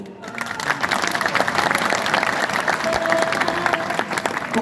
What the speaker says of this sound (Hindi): यदि आपको लगा कि मैंने सही बोला तो ताली बजाइए